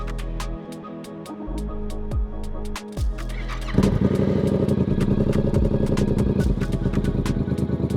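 A motorcycle is switched on with the kickstand up, giving a brief pump whir and clicks before a louder steady mechanical hum and rattle set in about halfway through, close and continuous with no talking.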